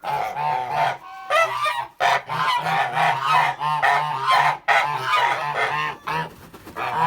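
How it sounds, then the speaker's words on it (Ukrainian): Geese honk loudly and repeatedly, a noisy overlapping chorus of harsh calls close by with only brief pauses. "Щось ці старі гуси дуже галасливі."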